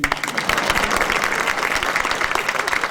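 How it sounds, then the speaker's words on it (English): An audience applauds Dr. Joe Collins at a local notables event, with dense, continuous clapping from many hands that stays loud and even from start to finish. "we should give him applause."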